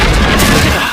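Spirit gun energy blast from the Yu Yu Hakusho anime: a single loud, close booming burst that fills about a second before trailing off slightly.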